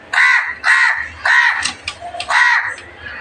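A crow caws loudly and close while being fed, giving four or five harsh, evenly spaced calls in a steady rhythm, with faint background noise and no talking.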